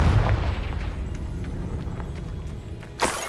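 A Confringo blasting spell explodes in Hogwarts Legacy, giving a low rumbling boom that fades across the clip, then a sharp burst near the end.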